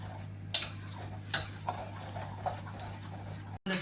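A spoon stirs rava kesari made with ghee and carrot in a pan, giving quiet scraping strokes and a few sharp scrapes over a low steady hum.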